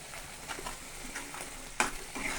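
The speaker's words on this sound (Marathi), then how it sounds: "हे छान असं हलवून घेऊया" Green pea curry in a plain onion-tomato gravy is stirred in a pan, giving a steady soft sizzle with light scraping strokes and one sharper clack of the spoon partway through.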